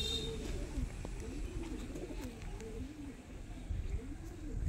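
Kasuri kalsira pigeons coo in low, rounded phrases that repeat steadily, fairly close, over a soft background hum.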